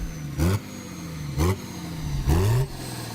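A naturally aspirated diesel car engine from the 1970s–90s, also used in Volvos, idles with a low rumble and is blipped three times in sharp, short revs that rise and fall quickly.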